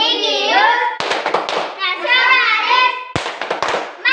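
A children's rhythmic clap chant from an Indonesian first-grade lesson, young voices chanting in unison broken by sharp, loud hand claps at about one second and again in a quick cluster near the end.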